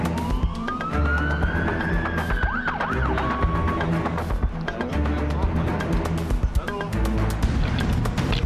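A wailing ambulance siren rises and sweeps, then gives way to busy street noise with overlapping sounds and voices.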